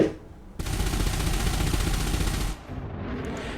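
Krait Phantom multi-cannons firing in the space game Elite Dangerous, a dense, loud, rapid burst of continuous gunfire lasting about two seconds that cuts off abruptly, followed by a quieter lingering rumble.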